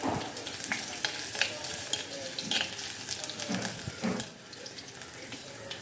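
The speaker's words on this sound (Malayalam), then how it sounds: "അത് നമ്മൾ ഇതിനകത്തോട്ട് ചെറുതായിട്ട് അരിഞ്ഞ വെളുത്തുള്ളിയും ഇഞ്ചിയും കൂടെ ഇട്ട് കൊടുക്കുക. എന്നിട്ട് ചെറുതായിട്ടൊന്ന് ഇളക്കി കൊടുക്കുക." Chopped garlic and ginger sizzle in hot oil for moru curry, with steady crackling frying and a spatula stirring through the pan in short scraping strokes, close and fairly quiet.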